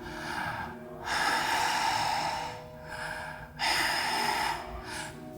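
A person imitates an old woman's heavy breathing: two long, loud, rasping breaths with a brief pause between them, close and alone.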